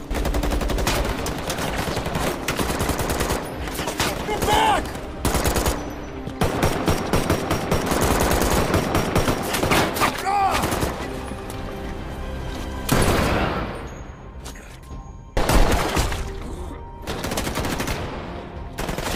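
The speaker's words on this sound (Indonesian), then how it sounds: "Dan 2 tersangka pun berhasil ditembak" Gunfire in a film bank robbery shootout, loud rapid bursts and single shots crackling almost continuously, with a brief lull before a final heavy volley.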